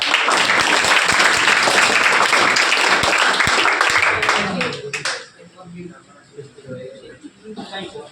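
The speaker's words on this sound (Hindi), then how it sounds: "तालियां" An audience of students at a welcome event for toppers bursts into loud, dense applause that stops abruptly about midway, leaving quieter room sound and a few faint voices.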